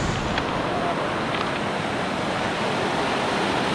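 A river rushes where two rivers meet, a steady broadband roar of flowing water with some wind, continuous and fairly loud.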